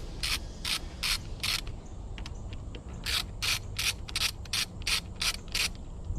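A ratchet clicks in repeated quick bursts while 6mm Allen keyed bolts are removed from a 2022 Honda Rebel 300 motorcycle, close and fairly quiet, with brief pauses between the runs of clicks.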